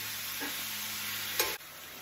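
Ground meat sizzles in a pan with serrano chiles and drops of lime juice, a dense, steady hiss close to the microphone, broken by a brief clink of stirring near the end.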